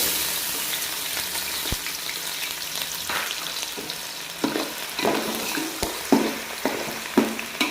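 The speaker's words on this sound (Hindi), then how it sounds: "देखिए हमारा ऑयल अच्छी तरह से गर्म हो चुका है। अब हम इसमें ऐड करेंगे प्याज।" Onions go into hot oil in a village kitchen while cooking a masala fish curry, a close, steady sizzle with repeated stirring scrapes growing busier toward the end, no talking.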